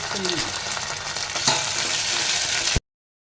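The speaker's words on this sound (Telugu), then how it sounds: "ఇప్పుడు ప్రిపరేషన్కి మస్టర్డ్ సీడ్స్ వేసుకోవాలి." Mustard seeds sizzle in hot oil, a loud, dense, continuous frying hiss up close, with a brief stir or pop partway through, cutting off abruptly near the end, with no talk.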